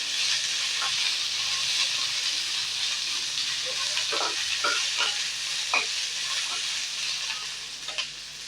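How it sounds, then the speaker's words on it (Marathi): Green chilies fry in a pan over lowered heat for an onion-tomato chutney, giving a constant loud hiss and sizzle with scattered sharp pops and spatula scrapes in the second half, up close and without speech. "मिरच्या चांगल्या परतून घ्यायच्या आहेत"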